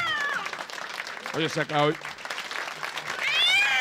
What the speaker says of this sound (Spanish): Aquí está la gata.